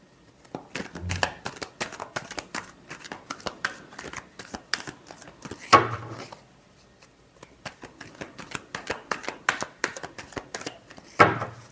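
Tarot cards being shuffled by hand, a run of quick papery riffles and slaps in close, uneven bursts with a couple of louder snaps, heard alone with no talking.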